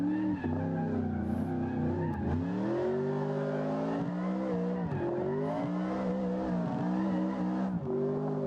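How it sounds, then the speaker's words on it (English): An F4 race car drifting at Virginia International, its tires squealing and skidding over a loud, steady engine howl whose pitch rises and dips throughout, heard close with no talking. "Is that not the cleanest drift y'all have ever seen?"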